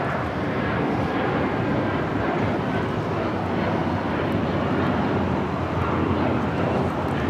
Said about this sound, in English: 2127 taking off to Newark on the 757-200